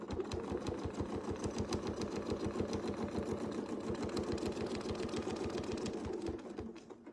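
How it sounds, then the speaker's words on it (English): Sewing machine stitching steadily toward a crosshair line on a quilting design, a fast, even mechanical chugging of needle strokes close by for several seconds before slowing to a stop, with no talk. "we're going to sew to the next crosshair line"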